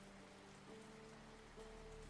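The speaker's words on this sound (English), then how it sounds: "sound of the rain eventually drowns it all away" Rain falls steadily as a faint, even hiss of drops on a surface, with a low tonal hum and soft music in the background and no voices.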